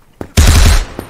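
Rapid burst of gunfire from the Krunker first-person shooter game, preceded by a single sharp shot and followed by another, loud and close with no talking.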